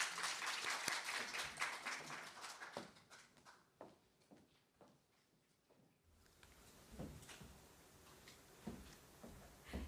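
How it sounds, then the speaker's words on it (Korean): A room of attendees at the opening ceremony of an investment education event applauds to welcome an official to the stage: a loud burst of clapping that thins into scattered, distinct claps before the hall quiets. "큰 박수로 처장님 맞이해 주시죠"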